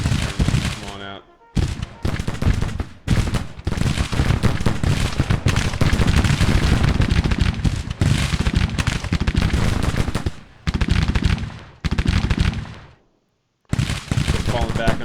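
Dense, loud battlefield gunfire from the Civil War game Gettysburg, volleys crackling almost continuously with brief gaps, someone commenting over the din.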